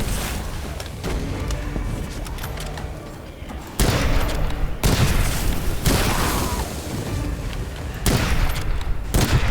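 Musketeer enemies firing in the video game Witchfire near a beach and cliff, a dense, loud barrage of booming shots and bursts that hits in repeated waves, layered over constant rumbling combat noise.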